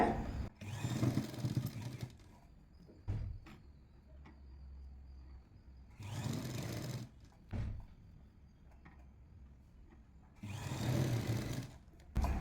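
Sewing machine stitching along the cross piece of a lined blouse jacket, three bursts of rapid running stitching separated by quiet pauses with faint handling clicks, close and moderately loud.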